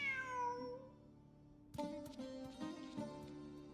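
Cat meowing in the Genshin Impact video game, heard alone and clear: one drawn-out, falling meow, then a shorter run of chirpy mews.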